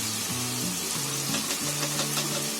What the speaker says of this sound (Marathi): त्याच्यामध्ये मी थोडं अद्रक लसणाची पेस्ट टाकणार